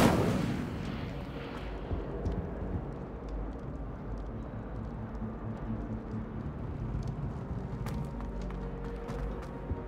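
A fire spell is cast in the Hogwarts Legacy video game, opening with a loud whooshing burst of flame that settles into a sustained crackling, rumbling roar, with scattered sharp snaps.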